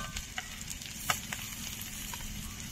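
Chopped tomato goes into a pan already frying cumin and coarsely cut onion, making a steady, fairly soft sizzle with faint stirring clicks.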